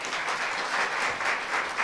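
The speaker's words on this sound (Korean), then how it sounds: "박수 부탁드립니다." Audience applause at the opening ceremony of a KDI policy seminar, a steady, dense clapping wash from a full hall that fills the short span without any talking.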